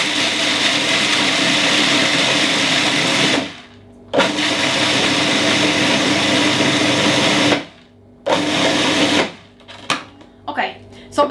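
A food processor whirs loudly while grinding cashews, pumpkin seeds and garlic cloves, running in three long steady bursts separated by brief pauses, then a few short pulses at the end.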